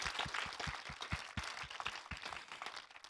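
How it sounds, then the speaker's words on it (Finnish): Applause from an audience at a political panel event, distinct individual claps in a loose rhythm over a thinner background of clapping, moderately loud and alone. "Annetaan aplodit"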